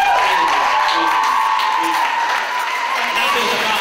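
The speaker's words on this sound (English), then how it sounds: "Give him another round of applause." Audience applause for a poet at a live youth performance event, a steady, dense wash of clapping and crowd noise that holds at an even level throughout.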